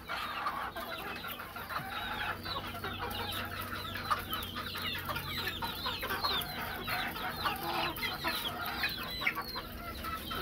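Many chickens cluck and chatter together at close range, a dense continuous flock murmur with scattered sharper calls throughout and no talking.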